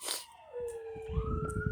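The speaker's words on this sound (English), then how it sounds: "I love the sirens" A siren wails with a falling then steady tone, ringing out fairly close over low rumbling traffic noise.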